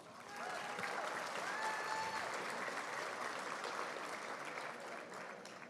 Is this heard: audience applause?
yes